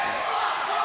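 A crowd at a high school boys' volleyball match shouts a rhythmic block cheer, a dense wall of voices held at steady loudness across the short moment.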